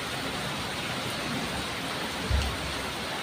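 Heavy rain pours down steadily in Oddanchatram, a dense, continuous roar of water with a brief low thump, and no voices.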